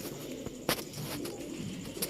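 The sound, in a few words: silver pigeons cooing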